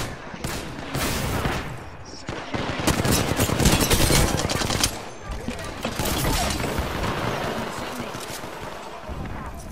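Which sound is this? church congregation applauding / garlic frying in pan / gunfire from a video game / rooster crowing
gunfire from a video game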